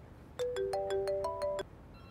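A phone ringtone plays a short melodic sequence of repeated electronic tones for just over a second, fairly loud and alone, signalling an incoming call.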